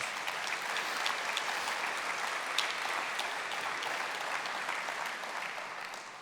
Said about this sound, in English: If you will give them another round of applause.